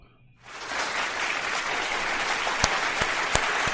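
After a brief quiet moment, applause breaks out and holds steady, dense clapping from a group, with a few sharper claps standing out near the end.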